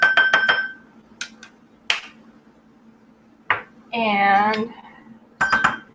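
Utensils clink against a bowl while ingredients with vanilla and cinnamon are mixed, in sharp, close bursts separated by pauses, with a short spoken word in between.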